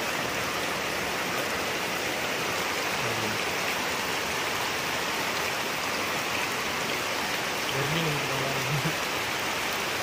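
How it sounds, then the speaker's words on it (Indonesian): Steady rain falls outdoors at a bus workshop, making a dense, even hiss throughout, with a faint low voice murmuring briefly underneath. "Ini hujan."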